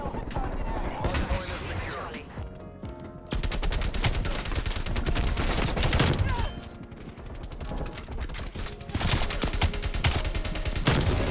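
Dense gunfire from the Black Ops Cold War video game, with sustained automatic bursts and rapid volleys that go on almost without a break at loud, close range, and a player talks over it.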